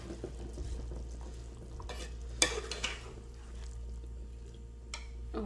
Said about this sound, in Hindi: ये देखिए हमारा पानी को बॉयल आ रहा है, तो अब हम इसमें चावल ऐड कर देते हैं